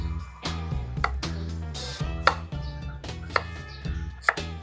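A knife chops fresh ginger on a board, with half a dozen sharp, irregularly spaced strikes over a tonal musical background.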